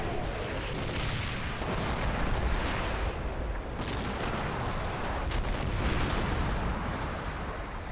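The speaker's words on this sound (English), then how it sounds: "we'll have to see what the casualties we sustain from this bombardment" Artillery bombardment rumbles in the World War II strategy game Combat Mission: Battle for Normandy, with a continuous heavy roar of shelling and distant booming impacts blending into a dense, unbroken wash of noise.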